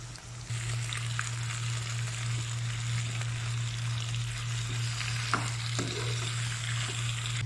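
Chicken pieces frying in a pan for ginataang kalabasa, giving a steady, close sizzle with light stirring scrapes throughout and a constant low kitchen hum underneath.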